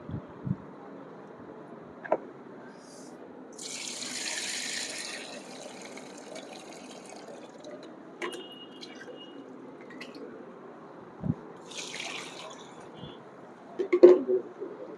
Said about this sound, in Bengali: যতক্ষণ পর্যন্ত এটা ময়লা পানি বের হবে এতক্ষণ পর্যন্ত এটা ক্লিন করবো আমরা